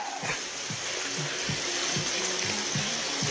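Flood water covers a street on Kaingin Road, with a constant rushing, splashing wash of water and soft low thumps scattered underneath.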